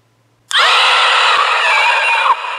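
A sudden, loud, harsh electronic scream from a Halloween horror toy bursts out and holds for about two seconds before cutting off, close and piercing.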